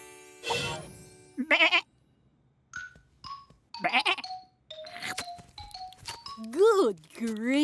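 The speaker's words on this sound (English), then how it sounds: "Goat!" A cartoon goat bleats among playful children's show sound effects and chirpy voices, with wavering bleat-like calls loudest near the end.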